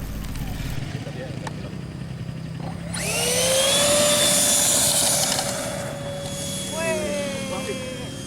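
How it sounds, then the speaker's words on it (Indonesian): A scratch-built RC F-35 Lightning II electric ducted fan jet spools up into a loud, rising whine that holds and then slowly fades. Outdoor background noise runs underneath, and a second brief whine comes near the end. "Okay, this is it, my first EDF jet."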